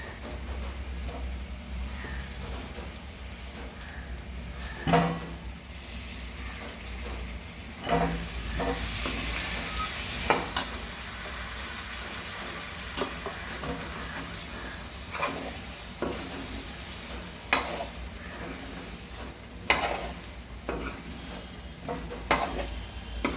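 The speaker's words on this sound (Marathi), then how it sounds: "आता आपण ह्याच्यामध्ये घालणार आहोत वांग ती थोडी परतून घेणार" Eggplant fries in masala paste and oil for a Maharashtrian masala vangi, a steady sizzle running throughout, broken by periodic scraping stirs of a spoon against the pan, with no talking.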